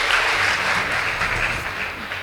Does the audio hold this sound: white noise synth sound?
no